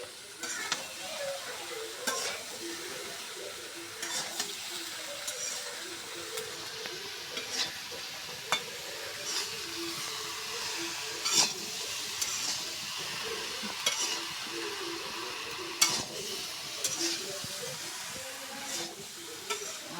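An eggplant and taro curry with salt, turmeric and ginger-garlic paste sizzles in a pan while a spatula stirs and scrapes repeatedly, with occasional sharper clinks against the metal over a steady frying hiss.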